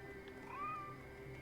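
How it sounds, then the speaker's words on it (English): A cat in the Assassin's Creed Valhalla video game, one of several in a field, gives a single short rising meow, soft and fairly close over a steady game ambience. "There are just like 8 cats hanging out in this field."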